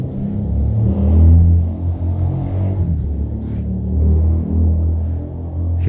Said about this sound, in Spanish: se escuchan ruidos, amigos, afuera de moto